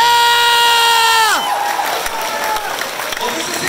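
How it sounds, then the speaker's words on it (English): An anime convention crowd in Los Angeles cheers and applauds. A sustained electronic tone sweeps down and cuts off, then loud cheering, whoops and clapping from a large audience carry on to the end. "Just for a round of applause,"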